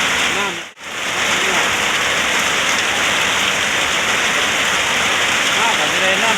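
Steady, dense rain patters and hisses continuously, close and fairly loud, with only a momentary break near the start.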